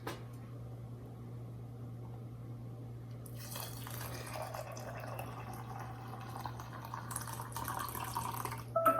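Homemade broth is poured into glass canning jars filled with beans, heard as a near, soft liquid trickle and fill that starts after a quiet moment and builds steadily over a faint low hum.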